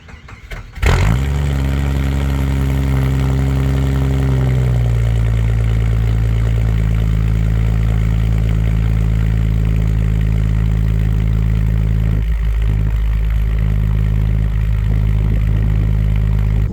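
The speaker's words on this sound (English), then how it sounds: "This one will be kind of loud, I think, but it should fire right up and run smooth." A 4-liter engine with a Cherry Bomb muffler cold starts with a quick crank, then settles into a loud, deep, steady idle that drops slightly after a few seconds.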